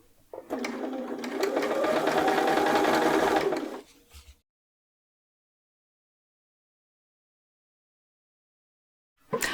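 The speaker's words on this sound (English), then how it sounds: "I have edge stitched all the way around the neckline with the dress inside out" A sewing machine whirs steadily for a few seconds of close edge stitching around a dress neckline, then stops, leaving silence until a brief sound at the very end.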